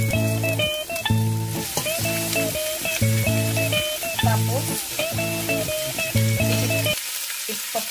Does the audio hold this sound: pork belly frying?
yes